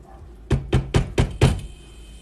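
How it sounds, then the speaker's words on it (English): A spoon knocks against the inner pot of an Instant Pot while chicken soup is stirred, giving five evenly spaced, fairly loud thuds. "Give it a stir."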